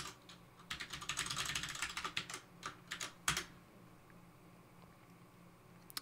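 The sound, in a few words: typing a password on a computer keyboard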